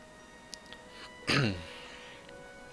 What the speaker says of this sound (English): I clear my throat a lot